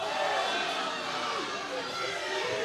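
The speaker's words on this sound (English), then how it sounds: "The crowd doesn't like that." A wrestling crowd at an independent show reacts with displeasure to a near-fall count, a dense, steady roar of many voices at constant loudness.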